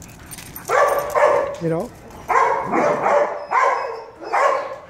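Several short dog barks in quick bursts, fairly close and loud, mixed with someone talking, at a gathering with dog breeders.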